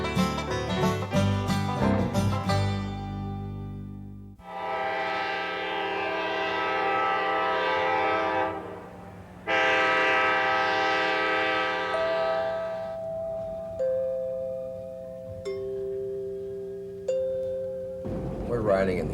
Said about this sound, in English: We're riding in the oldest, active, privately owned railroad car in the United States.